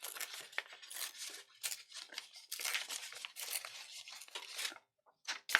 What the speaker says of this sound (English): So I'm just going to tear it.